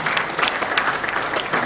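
Conference participants clapping for themselves after a session at a Kigali event, a dense, steady burst of applause from a full room, loud and continuous with no break.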